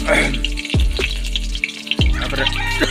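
Green chillies drop into hot oil for Odia-style gobi chilli on a stove, and the pan crackles and spits loudly, with sharp bursts of sizzle and a spoken voice over it.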